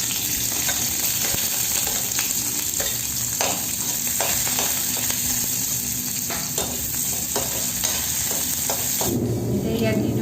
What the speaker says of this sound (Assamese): ইয়াতে মই আৰু অলপমান তেল দিম এতিয়া তেলত দি দিম অলপমান পিঁয়াজ